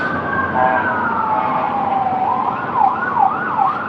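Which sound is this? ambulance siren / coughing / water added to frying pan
ambulance siren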